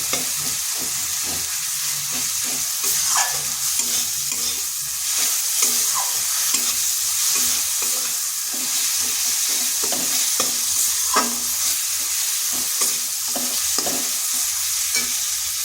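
Raw papaya and lentil curry is stir-fried in a pan, a continuous sizzle broken by repeated rhythmic scraping strokes of the spoon, close and steady, with no voices.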